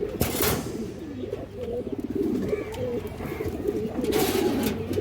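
A female pigeon coos in repeated low, throaty rolls, close and fairly loud, running almost continuously with a few short bursts of rustling between phrases.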